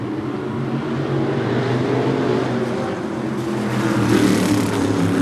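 Short-track race cars in a 2017 series pack sweep past on the opening lap, a continuous roar of several engines that builds and grows louder toward the end, heard from trackside.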